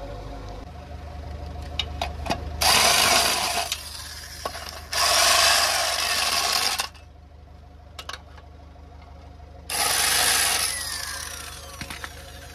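Tools working on the clutch plate cover of a Renault Scala, with three long bursts of loud, harsh grinding or rasping that each run for one to two seconds. Short clicks and taps of tools on metal fall between the bursts.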